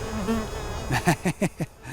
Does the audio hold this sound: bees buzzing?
yes